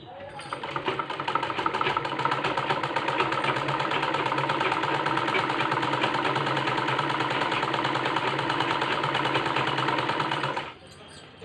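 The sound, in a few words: sewing machine stitching saree fall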